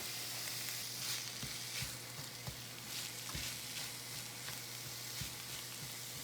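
Onions and peppers fry in a pan with a soft, steady sizzle, broken by occasional small pops and clicks of stirring, fairly quiet and close, with no talk.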